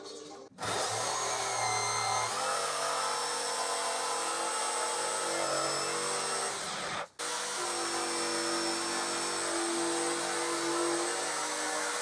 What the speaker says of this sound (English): And then I cut it out on the jigsaw.